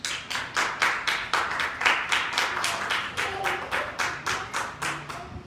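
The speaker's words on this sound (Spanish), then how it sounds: "Den un aplauso al Señor." A church congregation claps together in steady rhythmic unison, roughly three claps per second, loud and close, sustained throughout with no talking over it.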